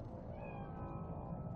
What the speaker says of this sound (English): Fine looking feline.